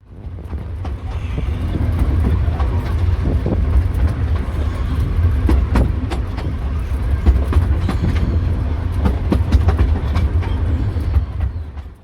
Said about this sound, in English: The North Bay Railway consists of miniature trains which shuttle you between Pishon and Scarborough Mills.